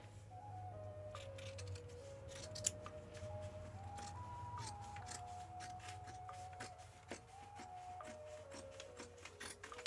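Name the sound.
sharp sewing scissors snipping through fabric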